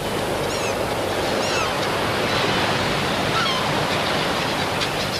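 Waves break steadily on the eroding boulder-clay beach of the Holderness coast, a continuous roar of surf mixed with gusting wind noise, with a few faint bird calls rising briefly above it.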